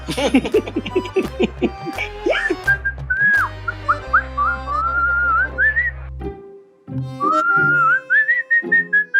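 A man whistles a wandering, carefree tune amid a tense scene in a Hindi TV comedy, preceded by a few seconds of lively voices and laughter, with a short pause before the whistling resumes loud and close.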